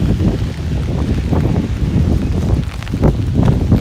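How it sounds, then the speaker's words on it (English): Strong wind roars and buffets against the microphone in a loud, continuous rumble with gusty surges, heard on a walk in the rain. "Oh, it's windy."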